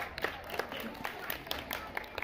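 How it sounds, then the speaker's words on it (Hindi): Brief clapping from an audience at a school science quiz contest, a short patter of scattered applause heard alongside nearby talk. "तालियां एक बार।"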